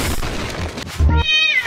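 A cat meows in a short, loud burst, rising into a drawn-out harmonic cry, set within noisy, lively background audio.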